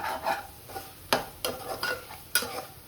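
Scrambled egg and soya keema are stirred together in a pan: scraping spoon strokes, a few sharp clinks against the metal and a faint sizzle underneath, heard close.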